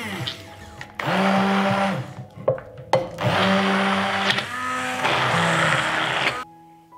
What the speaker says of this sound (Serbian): I zatim ću sve usitniti štapnim mikserom.